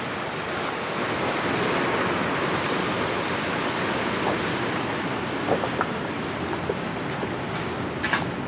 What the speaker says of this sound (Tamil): தண்ணி பாய்ஞ்சு கொண்டே இருக்குது